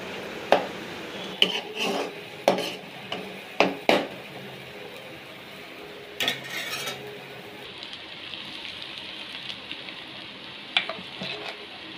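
Scrambled egg mixture stirred in a hot pan, a soft sizzle beneath repeated scraping and knocking strokes of a spoon against the pan, busier at first, then settling into a quieter hiss.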